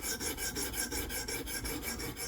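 A knife is drawn across a KME sharpener stone in quick, even strokes, a steady rhythmic rasp repeating about five times a second, close and clear with nothing else heard.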